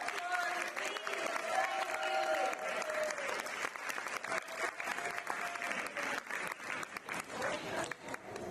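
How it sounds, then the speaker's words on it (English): An awards-night audience of swimmers and guests at the St Lucia Aquatic Federation ceremony gives a sustained round of applause, dense clapping throughout with faint crowd murmur and voices mixed in. "Swimmers, can you give them a round of applause, please?"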